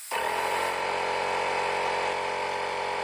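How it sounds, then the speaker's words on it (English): A small workshop air compressor running off a portable power station starts abruptly and then drones loudly and steadily with a harsh buzzing motor tone, close by and with no talk. "I swear the size of an air compressor seems to have an inverse relationship to how loud it is."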